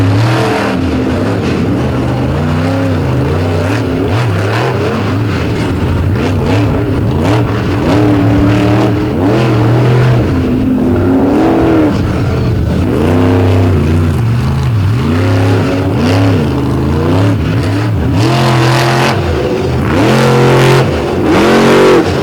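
A monster truck with a Ford body, doing a freestyle run at a Lake Erie monster truck show, revs its engine in a loud, close, continuous roar with repeated rising and falling throttle swells and no voices heard.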